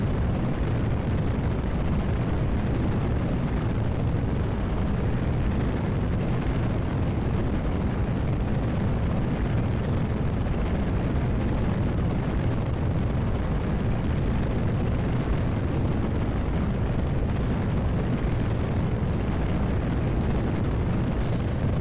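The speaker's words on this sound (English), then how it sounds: "As the Zeus rocket flies away from the launch pad, and it has surpassed Mach 1." Zeus rocket carrying an NRO payload climbing away from the launch pad past Mach 1, a continuous loud roaring rumble that holds steady throughout with no talk.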